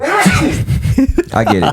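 A single close, sharp sneeze breaks into a casual conversation between people talking and chuckling.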